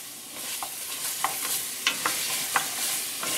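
A spoon scrapes and stirs the onion, celery and bell pepper trinity into a dark chocolate-colored roux for turkey and sausage gumbo, with a steady sizzle and a few sharp clacks of the utensil against the pot.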